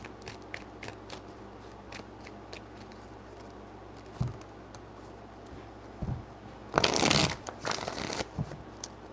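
A deck of tarot cards being shuffled, quiet scattered ticks and flicks building to a louder riffling burst near the end, heard close and without talk.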